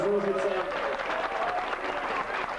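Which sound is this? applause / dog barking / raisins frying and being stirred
applause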